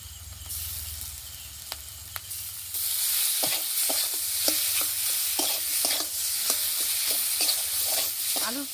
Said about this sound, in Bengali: আলুর পুরটা আমি আস্তে আস্তে ভালো করে কষিয়ে নেব।